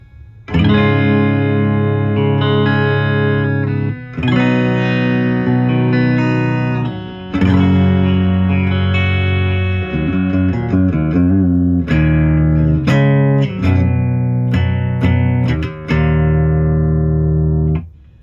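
Clean electric guitar chords ring out through the clean channel of a Crate GX900H amp head, sustained strums with a few quicker picked passages, loud and full with no talking.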